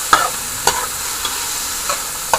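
Shrimp seasoned with olive leaf seasoning sizzling steadily in a pan, a constant hiss with a few soft stirring clicks spaced apart, close and fairly loud.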